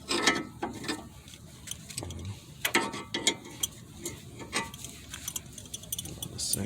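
Rapid clicking of a ratchet tightening the outer tie rod on a Mazda 6, uneven bursts of metallic pawl clicks mixed with light tool clatter, close up, while someone talks intermittently.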